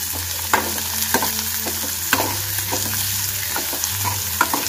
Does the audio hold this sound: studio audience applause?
no